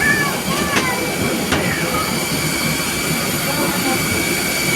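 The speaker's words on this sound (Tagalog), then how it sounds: "Sobrang ingay ng engine." A loud, steady jet-engine roar fills an airplane cabin after boarding, with brief voices breaking through the constant broadband rush.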